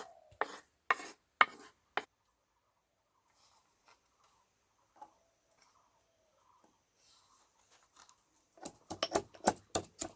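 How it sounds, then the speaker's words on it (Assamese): Coriander being finely chopped with a knife for a beetroot snack, heard as a quick burst of close knife taps at the start and a denser run of rapid chops at the end, with a near-silent stretch between. "অলপ ধনিয়া মিহি মিহিকৈ কাটি লৈছোঁ।"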